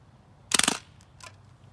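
Umarex Legends MP40 CO2 BB submachine gun firing a short burst of rapid pops that cut off after about a quarter second as it jams, followed by two fainter clicks; nearby and fairly loud, no talking.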